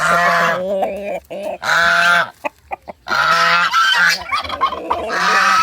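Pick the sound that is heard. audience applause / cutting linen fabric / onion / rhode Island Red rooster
rhode Island Red rooster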